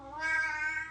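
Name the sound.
cat meowing to go out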